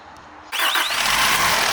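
Hino A09C truck diesel engine, new replacement unit on a test stand, cranks with a brief squealing whine and catches abruptly, settling into a loud steady idle.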